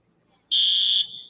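An alarm goes off at the Pitman Craft Fair, a loud, steady, piercing electronic buzz that starts abruptly and holds for about half a second before dropping to a quieter tone, with no talking.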